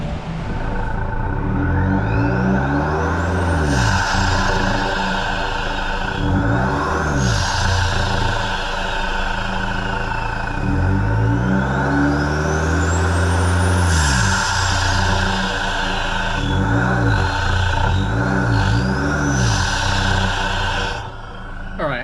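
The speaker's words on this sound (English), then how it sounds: "I can't wait to hear this snorkel in a sec when I jump in the car" A turbocharged Ford Raptor engine with a snorkel intake drones loudly from inside the cab, repeatedly rising and falling in pitch as it accelerates and shifts, with whooshing intake and turbo sounds.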